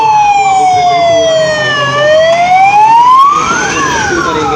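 A fire engine siren wails loud and close at an emergency mock drill, its tone sweeping down and back up in long glides over low engine rumble.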